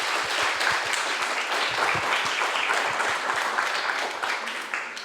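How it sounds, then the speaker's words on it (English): Audience applause fills a competition hall in Prague after a team presentation, a dense, steady wash of many hands clapping at a close, even level for the whole stretch, with no voices over it. "Big applause."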